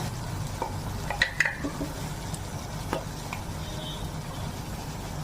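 Garlic and ginger with ground spices sizzle faintly in a pan while a spoon scrapes and stirs in a few short bursts, building a duck egg curry; the cooking stays close and fairly quiet.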